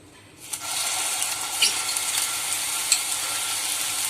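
Onion paste goes into hot oil in a pan for an amaranth curry and sets off a sudden, close sizzle that keeps frying steadily, with a few soft stirring clicks and no talk.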